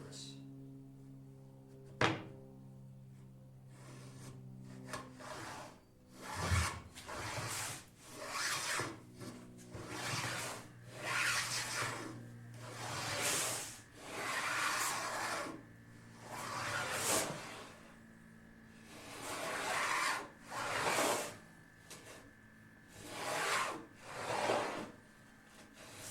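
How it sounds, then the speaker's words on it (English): A hand tool cuts a groove in a wooden board for a Shaker Enfield cabinet, giving repeated rasping strokes in a steady back-and-forth rhythm, close and moderately loud, with occasional knocks. "Got that initial groove set in."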